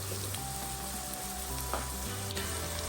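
Oyster mushrooms frying in a pan as a tablespoon of curry spice goes in, with a steady, close sizzle and crackle running throughout.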